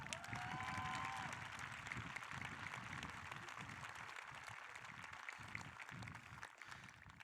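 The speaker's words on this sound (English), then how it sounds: "Can I get a round of applause?" A high school graduation audience breaks into applause, a low, distant, steady clapping wash with a faint whistle-like tone early on, continuing evenly for about seven seconds.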